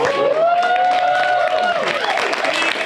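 A live audience applauds a volunteer couple brought up on stage, a brief, fairly loud burst of clapping mixed with a held tone and crowd noise.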